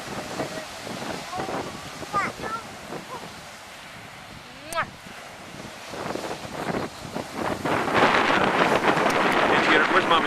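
Strong wind buffets the microphone at a beach, with surf rumbling behind; adult voices and a child's sounds are heard over the gusts, which grow louder and more continuous toward the end.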